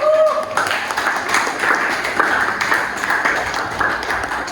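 Classroom applause for the winning student group, a spread of many hands clapping at moderate loudness that starts abruptly and carries on steadily for a few seconds, with faint voices mixed underneath.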